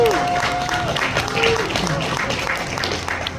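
Applause for a youth baseball team at a banquet, a crowd clapping in a broad, steady wash, with voices and some chatter mixed in.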